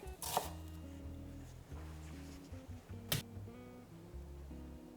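Knife chopping vegetables on a board while cooking a carrot and chickpea korma, two sharp clean chops set against a soft music bed, near and fairly quiet, no talk.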